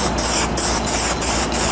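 Spray paint hisses steadily and loudly from a close aerosol can aimed at the edges of a piece, a continuous broadband spray with faint rhythmic pulsing and no talking.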